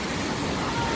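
Surging waves in a water park wave pool, a steady broadband wash of churning water running throughout, with faint crowd noise in the background.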